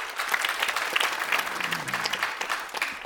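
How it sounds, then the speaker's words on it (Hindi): A large audience at an award ceremony in a New Delhi museum hall claps loudly for a guest, a dense, continuous burst of applause with a faint voice briefly underneath. "एक बार जोरदार ताली"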